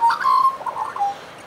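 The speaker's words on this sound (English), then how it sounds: "there's quite a lot of different birds" Wild birds at a feeder, with one clear, fairly close call of soft whistled and cooing notes over about a second, then quiet.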